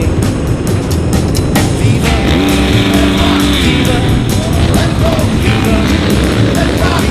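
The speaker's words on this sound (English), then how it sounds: "Driving race cars on the street in the middle of Vegas is a different feeling" A desert race car for the Mint 400 rolls down a Las Vegas boulevard, its engine a loud, gritty rumble close by, with brief rising revs midway amid crowd and street noise.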